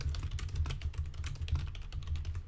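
Fast, steady typing on a computer keyboard, close and clear, with quick clicking keystrokes over a low background hum.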